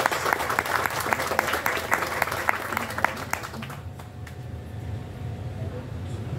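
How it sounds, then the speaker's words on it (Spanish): An audience at an anniversary celebration in Sarchí bursts into dense, lively applause that holds for about four seconds, then thins to a few scattered claps over background murmur. "Nuevamente un aplauso, por favor."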